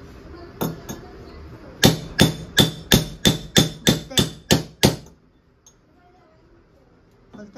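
Something hammered in to fit tight at home, nine evenly spaced loud hammer blows in a quick steady rhythm after two lighter taps, close by, then near silence.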